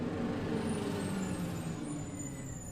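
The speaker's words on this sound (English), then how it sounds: "That's our garbage truck." A garbage truck idles outside with a steady low engine rumble and hiss of air brakes, heard continuously and moderately close with no talk over it.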